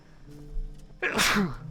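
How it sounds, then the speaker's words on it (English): A single loud, close sneeze bursts out after a brief quiet moment. "Ooh, gotta sneeze."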